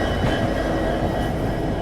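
Indian Railways superfast express train from New Delhi to Ambedkar Nagar pulling out of New Delhi station, hauled by a diesel locomotive, with a loud, steady rumble of wheels and carriages close by.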